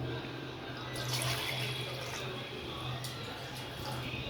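Water pours and splashes steadily into a pot of soaking basmati rice for cooking, a continuous close running-water sound over a low hum.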